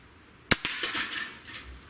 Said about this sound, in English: let's just go ahead and hit the pellet can because I never like to leave a target standing if I can help it